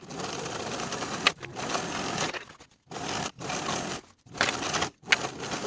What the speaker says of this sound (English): Now I'll sew through this single layer of bias tape and collar, sewing right inside the crease of the bias tape.